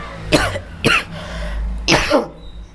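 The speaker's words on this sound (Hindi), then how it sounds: "सॉरी, बार बार आज खांसी कैसे आ रहा है यार" Three harsh coughs, close and loud, with short pauses between them and a low background hum.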